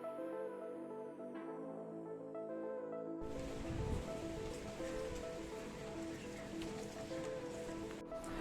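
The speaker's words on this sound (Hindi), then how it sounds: "बारिश ज़ोरों शोरों से हो रही है" Heavy rain falls steadily as a dense hiss, starting abruptly after a few seconds of quieter background and continuing evenly to the end, with no talk.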